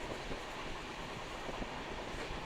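A passenger train running in Kerala, heard from inside as a steady low rumble with faint clattering of the wheels on the rails, fairly quiet and without voices.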